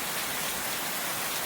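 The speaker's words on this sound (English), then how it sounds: "before the rain starts blowing in on the porch" Steady, dense rain falls during a thunderstorm at night, heard from a porch as a continuous, even hiss with no thunder or voices.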